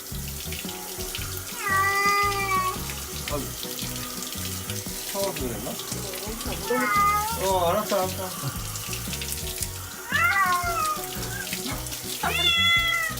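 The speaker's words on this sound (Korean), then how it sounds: "물소리가 너무 크잖아" A cat being bathed under a running tap, the water rushing steadily throughout while the cat gives drawn-out meows and people talk over the splashing.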